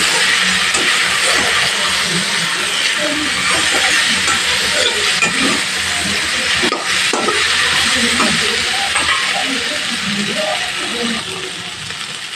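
Okra fries lightly in a pan with a loud, continuous hiss and sizzle, plus occasional soft stirring scrapes close by.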